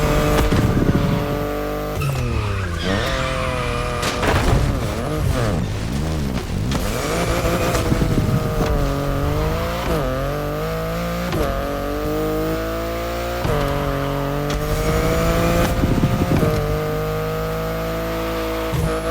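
A BMW engine roars through a driving sequence in the racing video game The Crew Motorfest, with steady revving that rises and falls through gear shifts, plus occasional tire squeal, loud and continuous throughout.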